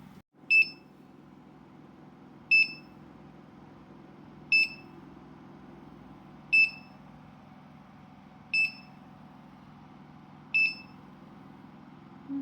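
A Presto 12-quart digital pressure canner gives six short electronic beeps at steady two-second intervals, clear and alone over a faint low hum.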